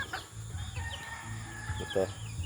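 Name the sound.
native chickens and rooster clucking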